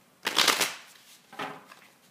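Tarot cards shuffled in two bursts: a loud crisp riffling flutter, a pause, then a shorter, softer riffle, close and alone.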